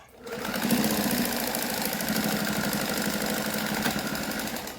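Close, steady whirr of a sewing machine stitching over stretched elastic, a rapid even needle chatter running continuously after a brief start, with no voice over it.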